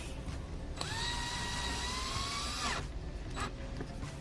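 A power drill drives a screw into the side skirt of a 2013 Mazda 2 DE five-door, one sustained rising whine for about two seconds, close, then a brief second burst amid light background noise.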